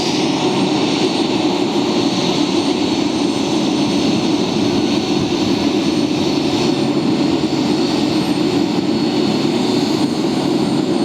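AeroMexico jet airliner at New York's JFK airport, its engines producing a loud, steady broadband roar that holds evenly for the whole stretch with no talk over it.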